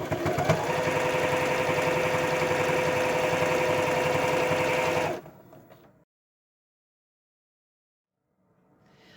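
Sewing machine stitching quilt binding runs with a loud, fast continuous whir for about five seconds, then stops, leaving near silence with faint handling at the end.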